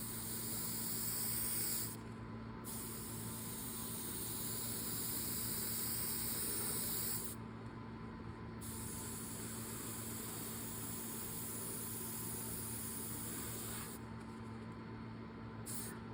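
Steady hissing spray bursts from an airbrush applying walnut dye onto a leather Allen Edmonds shoe in repeated passes with brief pauses, over a low constant hum.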